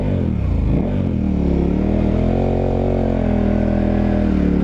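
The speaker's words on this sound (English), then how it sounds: "We got good wheel spin in the back." A dual sport motorcycle fitted with Mitas E07+ adventure tires accelerates hard with the rear wheel spinning, its loud, close engine revving steadily upward in a continuous roar that runs throughout.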